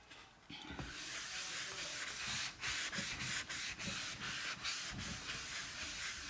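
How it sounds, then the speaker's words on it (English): A board eraser rubs glitter off a chalkboard in a steady run of dry, close scrubbing strokes, each pass a rasping hiss broken by brief pauses. "get in there and get the rest of that glitter off. Maybe use a little bit of my board eraser."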